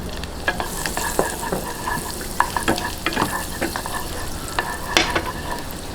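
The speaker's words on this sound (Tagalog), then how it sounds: "Lagay po natin ng butter." Butter melting in a pan for lasagna white sauce, a steady close sizzle with scattered crackling pops and a few scraping stirs, moderately loud and with no voices.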